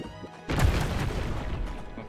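An explosion in the video game Core Keeper 2 in a muddy cave area, a sudden heavy boom that hits hard and then rumbles on as a sustained loud roar to the end.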